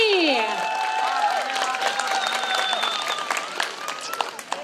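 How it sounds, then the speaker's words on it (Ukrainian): Applause and cheering from a crowd at a Trinity (Green Holidays) festival, with a voice speaking over it at the start and continuous clapping filling the background. "Марія, оплески Марії!"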